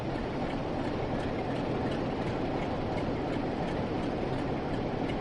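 A Class 50 locomotive train in Train Sim World 2 approaches on a Scotrail Cornish railtour route with a loud, continuous rumbling roar and steady rail clatter throughout, with no voices.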